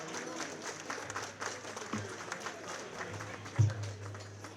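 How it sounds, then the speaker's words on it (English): Guests at a formal gala ball applaud, a steady wash of clapping from a room full of people, moderately distant and fairly even, with a few louder thumps near the end. "How about another round of applause?"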